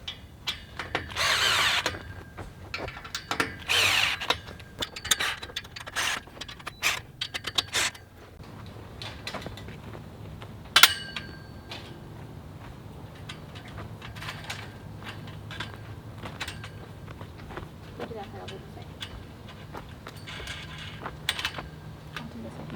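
Bolting together boat cover roof poles and cross members brings short, loud power-drill bursts in the first seconds, then sparse clicks and clanks of metal parts as people talk nearby.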